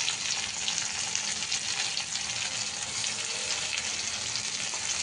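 Onion and tomato frying in oil with asafoetida for a cauliflower and potato bhaji, a steady close hiss of sizzling that holds evenly throughout with faint watery crackle and no talking.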